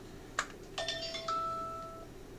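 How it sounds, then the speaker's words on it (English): A phone rings in a home office, a couple of sharp electronic tones followed by sustained chiming notes that fade over a quiet background, with no one speaking. "There's the phone."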